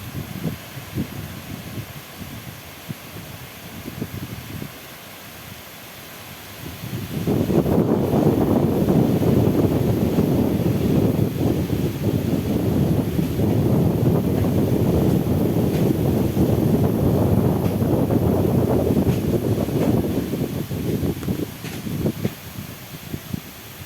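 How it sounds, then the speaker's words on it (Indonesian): Strong wind buffets the microphone on a beach at Port Nolloth, starting as moderate gusts and then surging into a loud, continuous roaring rush that persists with surf-like noise underneath. "Wow, tambah kencang anginnya, teman-teman."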